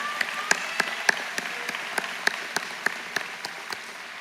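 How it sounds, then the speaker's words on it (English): Scattered hand claps at a college commencement sound at a fairly regular pace, a few people clapping rather than a full crowd, moderately close. "Can we give them a round of applause?"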